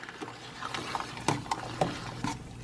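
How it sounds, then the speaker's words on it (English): Soft scraping and light knocks of a utensil stirring acini di pepe pasta in a pot, a few irregular taps over a low background hiss. "we're going to give it a stir"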